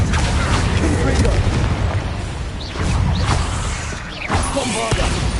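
Bombarda spell explosions in the game Hogwarts Legacy, loud booming bursts that come in waves over heavy game noise, with a voice shouting alongside.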